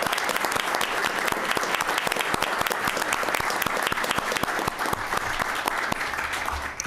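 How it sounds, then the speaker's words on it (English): Applause from an audience at a city council meeting, a dense steady clapping that fills the room throughout, with no speech over it. "Okay, one more round of applause for Sherry before."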